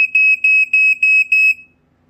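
A Black & Decker SMK 6D/M3 smoke alarm sounds its test: a series of about five shrill, loud electronic beeps in a steady slow pulse, heard alone and close.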